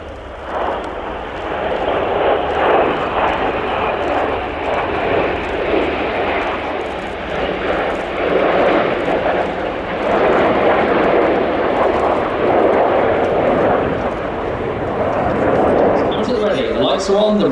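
A BAE Hawk jet sweeps past in a banking display pass at an air show, its engine a loud, broad, steady roar that swells and holds throughout, with faint voices underneath.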